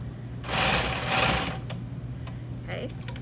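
Sewing machine stitching a shirt yoke at high speed in a quick, close burst of rapid whirring, followed by a quieter stretch with a voice speaking.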